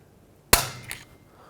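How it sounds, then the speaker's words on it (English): A stiff snap ring on the hub of a 2008-2010 Ford F-250 lower ball joint releases from snap ring pliers with a single sharp metallic snap, close and loud, followed by a brief ringing decay and a faint second tick. "We're going to have to take that out, so get your snap ring pliers."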